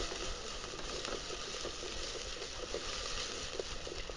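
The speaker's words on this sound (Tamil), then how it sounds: "ஃப்ரை ஆகிட்டு இருக்க வெங்காயம் தக்காளி கூட வெட்டி வச்சுருக்க முருங்கையை சேர்க்குறேன்." Onion, tomato, ginger garlic paste and green chilli frying in a pan, a steady, even sizzle with soft crackling that continues throughout, with no talking.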